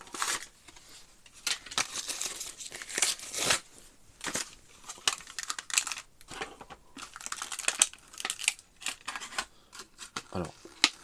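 Majorette Volkswagen premium toy car package being opened up close, with scattered crinkling, plastic clicks and rustling in short irregular bursts, quiet overall.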